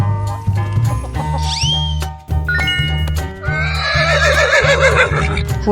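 In a 3D animal video game, a horse whinnies loudly in two long, quavering neighs, with tinkling chimes and a thumping, evenly pulsed music track underneath.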